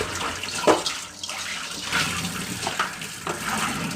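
Goat tripe and intestines are rinsed under a running tap, water splashing and sloshing steadily with uneven gurgling bursts as the pieces are swished and turned by hand.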